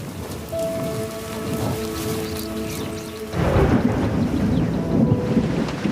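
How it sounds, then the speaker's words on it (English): Heavy rain pours steadily in a thunderstorm, loud and close with a dense wash of drops on surfaces, growing stronger partway through while thunder rumbles underneath; tonal hum lines run through the first half. "however, heavy rain sets in"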